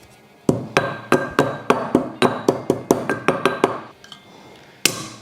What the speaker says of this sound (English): I'm going to instead use my mortar and pestle just to make these pieces a little bit smaller